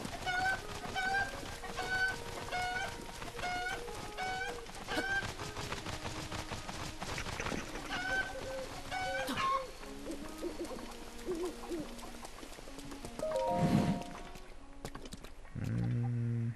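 Chickens in the video game Breath of the Wild cluck in repeated short calls over game ambience and music, fairly close, followed by a few scattered sounds near the end.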